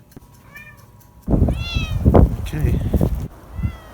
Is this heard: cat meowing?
yes